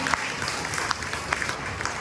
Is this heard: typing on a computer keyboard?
no